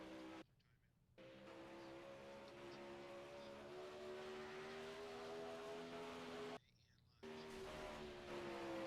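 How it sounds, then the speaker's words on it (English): Sprint cars circle a dirt track at Williams Grove, a steady distant engine drone with rising and falling tones, broken by two brief dropouts. "Couple cars still on track."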